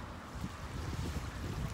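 Cold wind gusting outdoors in Denmark, a steady rushing roar buffeting the microphone with low rumbling thumps, heard alone without talking.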